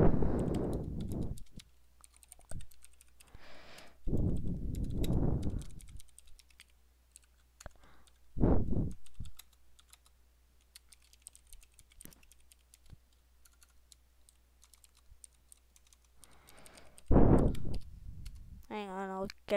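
Someone types on a computer keyboard, with faint scattered key clicks in short runs between stretches of someone talking, quiet and close.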